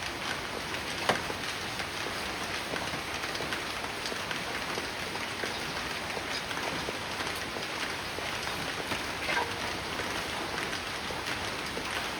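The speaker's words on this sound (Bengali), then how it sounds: "বৃষ্টি শুরু হয়ে গেল টিপ টিপ" Light rain beginning to fall outdoors, a soft, even hiss of pattering drops with a few sharper ticks, steady and fairly faint throughout.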